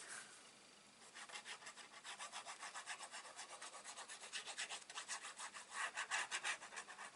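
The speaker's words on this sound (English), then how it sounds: "And now we're going to just burnish that one more time." A tool rubbed back and forth over a stamped card panel to burnish it, a quiet rhythmic scraping of close, even strokes, about twenty in quick succession after a brief pause, with no talking.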